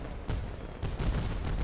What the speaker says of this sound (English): Oh, it's fireworks.